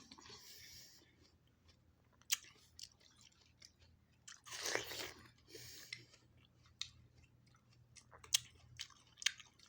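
Someone bites into watermelon and chews, producing soft wet crunches in irregular bursts, close and quiet, with a brief louder munch in the middle.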